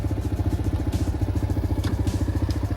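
A motorcycle engine runs steadily close by with a pulsing, throbbing rhythm as gears are shifted, with light clatter and occasional clicks over the chugging exhaust beat.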